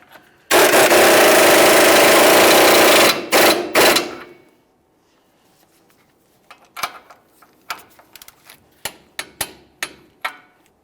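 A power tool with a 24 mm socket spins down a lower ball joint nut in one loud, steady burst of about three seconds, followed by two short bursts and then scattered light metallic taps.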